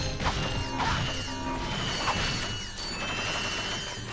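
Bolts being collected in Ratchet and Clank, a rapid metallic rattling and clinking cascade over a busy mechanical game soundscape, loud and continuous with repeated bursts of jangling pickups.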